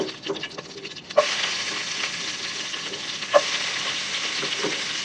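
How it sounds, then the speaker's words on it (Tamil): Onions sizzle in hot oil over a low flame for a fish curry, a steady close frying hiss broken by a sharp clatter of stirring about a second in and again later. "இப்போ வந்து ஆனியன் போட்டுக்கிறேன்."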